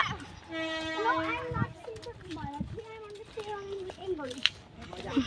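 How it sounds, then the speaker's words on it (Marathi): A train rumbles in with squealing, tonal horn-like blasts and screeching wheels, while people talk and a voice is heard nearby. "गाईज ट्रेन आली आहे"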